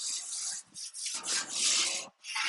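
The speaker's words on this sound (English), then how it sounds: "And then spread it back out with the brush here." A brush spreads a seasoning coat across a flat-top griddle with several quick scraping, rubbing strokes close up, separated by short gaps.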